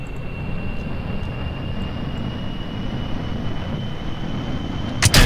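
A rocket lifts off in the Kerbal Space Program video game, a steady, loud broadband roar that holds evenly throughout, with no talking.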